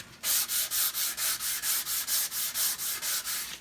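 Mahogany half hull being hand sanded with 280 grit sandpaper: about a dozen even back-and-forth strokes in a brisk, regular rhythm, close and clear with no talk.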